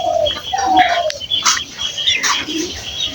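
Pigeons coo and chirp while feeding in a yard where chickens also forage, with a descending whistle-like call opening and short bursts of bird calls and scuffling over a busy, close outdoor background.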